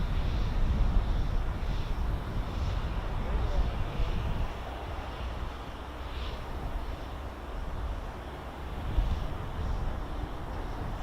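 An F-35B stealth fighter of the Royal Navy's 809 Naval Air Squadron takes off, heard as a distant, steady low roar blended with outdoor wind rumble that swells and eases slightly over several seconds.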